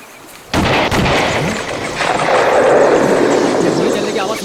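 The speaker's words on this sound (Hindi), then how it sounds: "गोली चलने की आवाज सुनी तुमने?" A sudden sharp blast in a Hindi film scene, the gunshot striking hard after a quiet start and trailing into a loud, sustained rumbling wash of noise.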